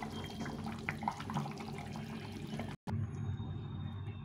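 Tilapia fish curry bubbling in a pan as it boils, a soft continuous simmer with small bubbling pops, close and fairly quiet, with a brief cut partway through.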